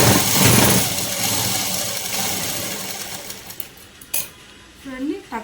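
A sewing machine stitches a tuck in a blouse front, whirring steadily and faintly under someone speaking, then a few short bursts of stitching.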